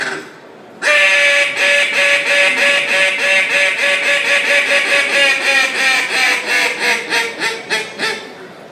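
A handheld duck call imitates a duck with a long run of loud, rapid quacks that slow and taper toward the end, close and alone after a brief quiet lead-in.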